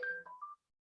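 A short electronic phone notification beep sounds in two stepped tones, clear and close, ending in silence after about half a second.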